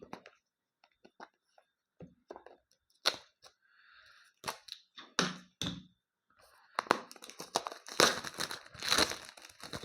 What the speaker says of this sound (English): Let me try to unwrap this quickly